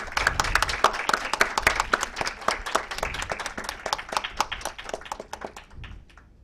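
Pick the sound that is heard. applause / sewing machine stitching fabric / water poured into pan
applause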